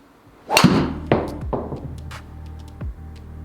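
A golf ball is struck by a driver, one sharp close impact followed by fainter clicks and thuds as the ball flies off.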